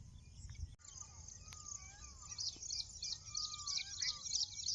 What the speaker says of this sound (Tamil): பார்த்தீங்களா, குருவிங்க சாப்பிட்டுட்டு இருக்க பாருங்க